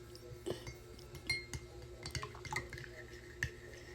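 Glass clinks and a spoon stirring in a glass as First Vita Plus Fruit Medley drinks are poured and mixed together, with scattered light taps and drips over a quiet background.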